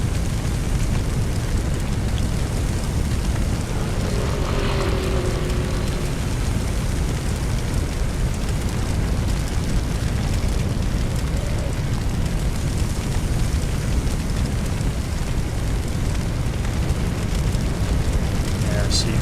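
A raging house fire in Firefighting Simulator: The Squad gives off a dense, steady roaring rush with no break. A voice sits faintly beneath it.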